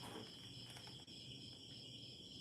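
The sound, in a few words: crickets chirping at night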